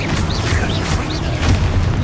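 A Confringo spell explosion in the Hogwarts Legacy video game: a burst of booming blasts over about two seconds, with whooshing magical swirls and a deep rumbling low end.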